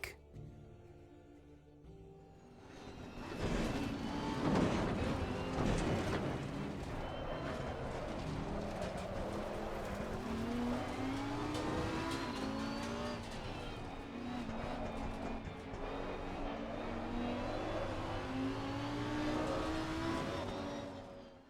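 Racing car engine in the driving game Assetto Corsa, a steady loud drone with rising and falling pitch sweeps as the car accelerates and shifts, continuous for about twenty seconds with no talk.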